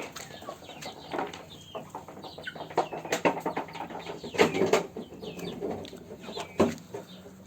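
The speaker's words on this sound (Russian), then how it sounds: "вот эти вот цыплята, они полукровки. У них мама бойцовая, а отец обычный петушок." Half-breed chicks from a fighting hen and an ordinary rooster cluck and peep in scattered, uneven bursts, fairly close, with brief flutters and no talking.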